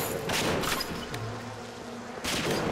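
Bees attack as an insect swarm in the video game Bioshock, a buzzing hiss mixed with sharp bursts, heard close and moderately loud over a low droning tone.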